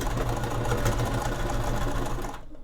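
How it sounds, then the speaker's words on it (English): A sewing machine running steadily as it stitches fabric for a small cinch pouch, a close, even mechanical whir that stops abruptly near the end. "And then we just carefully do our stitches."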